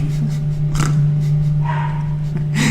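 A dog barks a few times at a distance, short muffled yaps sitting behind a steady electrical hum, with no speech during the barks.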